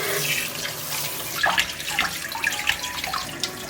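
Tap water runs steadily over fresh chicken wings and a drumstick being rinsed in a kitchen sink, a close, continuous splashing hiss with small bursts as the pieces shift under the stream.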